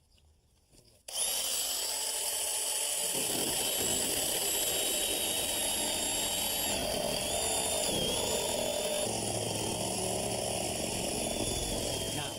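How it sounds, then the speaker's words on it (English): A reciprocating saw cuts through fence slats outdoors, starting abruptly after a quiet moment and then running loud and continuous with a buzzing, slightly wavering whine right up close, with no talking. "We're going to trace a line right down where I want to make my cut with my reciprocating saw."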